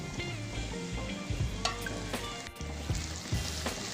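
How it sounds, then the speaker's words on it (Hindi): Ginger garlic paste sizzles loudly in a pan of browned onions for a chole curry, a steady close-up frying hiss with occasional scraping stirs and clinks, and no talking. "अब जो है हमारा प्याज ब्राउन हो चुका है, तो अब हम इसके अंदर ऐड करेंगे अदरक लहसुन का पेस्ट।"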